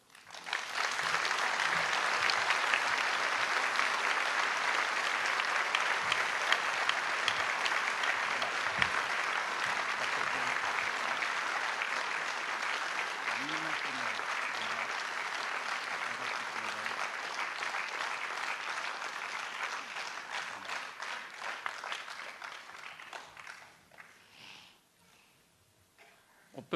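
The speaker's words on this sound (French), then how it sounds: "je vous demande aussi de l'applaudir bien fort" Sustained audience applause at a mayor's New Year wishes ceremony in Valognes, honouring a medal recipient: dense, steady clapping from a sizeable crowd that carries on for about twenty seconds before tapering off.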